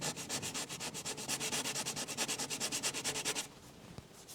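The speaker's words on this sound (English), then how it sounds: "take a sanding block here, just sand that down a little bit" A sanding block rubbed back and forth over a painted wall around a patched hole, a steady run of close, rhythmic rasping strokes that stops abruptly near the end.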